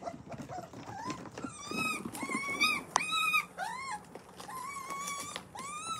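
Miniature poodle puppies about six and a half weeks old whimper and cry in repeated high, wavering whines, close and fairly loud, with short yelps and scuffling between the cries.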